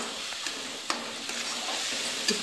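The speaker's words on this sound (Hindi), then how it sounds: "इस मसाले को हमको बहुत ज़्यादा नहीं सेकना है, हाफ फ्राई करना है हमको इसको" Green coriander masala half-frying in a pan for stuffed brinjal, a soft steady sizzle with occasional light stirring scrapes and small clicks, close and fairly quiet, with no voices.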